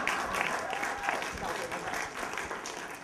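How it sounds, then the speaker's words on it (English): An audience at the 2011 Seth Conference in New York claps in a steady, moderately loud wash of applause, with some talking mixed in beneath the clapping. "Please clap for her."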